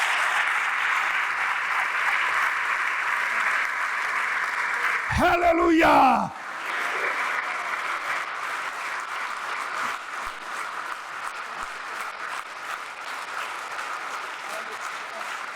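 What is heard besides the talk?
audience applause during a sermon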